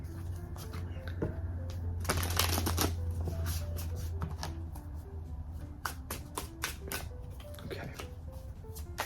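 Tarot cards shuffled by hand at close range, a steady riffling and flicking with denser bursts, while a soft melodic tune plays in the background.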